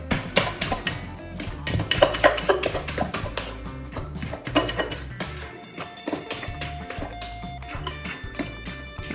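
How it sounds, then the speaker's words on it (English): Focaccia dough ingredients are stirred together in a bowl, with a rapid, irregular run of close clinks, taps and scrapes that continues throughout without speech. "I'll start mixing everything"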